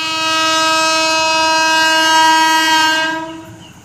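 Passing train sounding a long, loud, steady horn near a level crossing in Indonesia, with freight and commuter trains on the line; the blaring tone holds for about three seconds before cutting off, over the low rumble of the cars.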